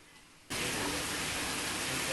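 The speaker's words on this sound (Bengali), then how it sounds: "আর বৃষ্টি নামলো রে" Rain beginning to fall outdoors, arriving abruptly after a quiet half-second and then holding as a loud, even, close wash of noise.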